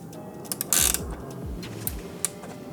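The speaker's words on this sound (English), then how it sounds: "So I'm actually gonna tighten the chain a tad bit more because this chain is also gonna loosen." Ratcheting wrench clicks in short bursts while a Yamaha R1M motorcycle's EK chain is tightened, with faint mechanical creaks and metallic clinks between the strokes, close and fairly quiet.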